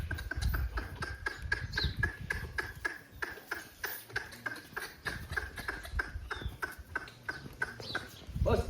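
A horse's hooves clip-clop in a steady, fairly close rhythm as the animal is let loose after months without work, with a brief voice near the end.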